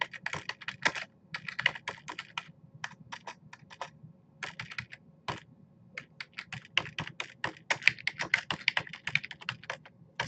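Rapid typing on a computer keyboard, with bursts of crisp key clicks separated by short pauses, close and clear with no talking.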